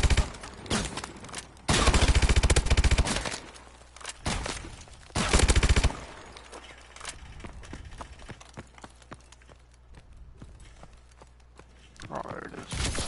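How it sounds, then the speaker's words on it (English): Shotgun gunfire rings out in the survival video game Exo survival. Two loud, sustained bursts of shooting are followed by scattered, quieter shots and other game noises, with a voice heard at times. "Goddamn shotgun."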